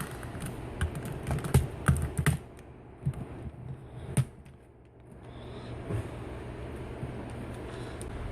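A plastic computer keyboard casing, its screws removed, is peeled apart by hand, giving a close, irregular run of sharp clicks and snapping pops, then a quieter stretch of faint rustling.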